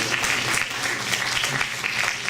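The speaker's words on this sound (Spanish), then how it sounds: "Un fuerte aplauso para las expositoras de esta noche." A crowd at a parliamentary forum on the obstetrics profession gives the evening's speakers a strong round of applause, with even, dense clapping that fills the whole short stretch.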